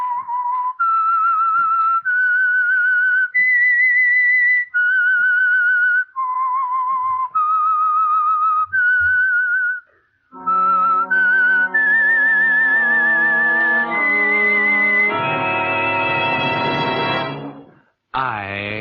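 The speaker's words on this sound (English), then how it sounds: "That whistle is your signal for the Signal Oil Program" A whistled radio signal for the Signal Oil Program's The Whistler in 1947, with a clear eerie melody of sustained tones rising in pitch, ending on a fuller orchestral swell, loud and alone.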